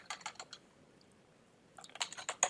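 Quick bursts of computer keyboard typing as a project file name is entered, two clusters of clicking keystrokes separated by a short pause, close and fairly quiet, with no talking.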